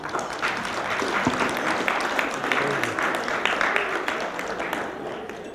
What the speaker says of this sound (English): So let's give them a round of applause for their bravery